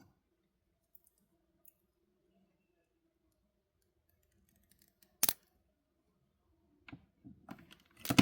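Cutters snipping off beading wire, a single sharp snip standing out from near-silence, followed by a few faint clicks and handling taps close by.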